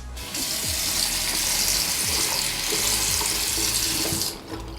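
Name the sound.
rinsing the stainless steel squeegee under running water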